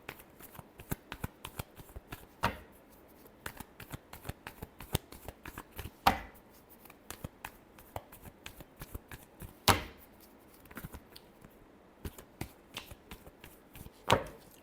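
Tarot cards are shuffled by hand in a steady run of soft riffling clicks, with a few sharper bridging snaps standing out; the sound is close and continuous with no voice over it.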